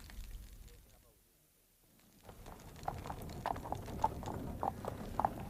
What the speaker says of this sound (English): A very expensive carriage, superb horses and a liveried footman.